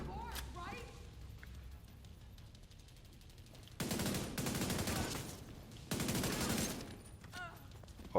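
Two sustained bursts of automatic gunfire in The Division 2, a tactical shooter played in realism mode, each lasting under a second to a couple of seconds and loud against quieter game ambience, with a voice talking faintly earlier on.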